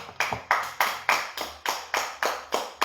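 Participants in a home workout session clap together in a slow, steady rhythm of about ten distinct, evenly spaced claps, close and fairly loud.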